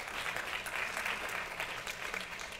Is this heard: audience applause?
yes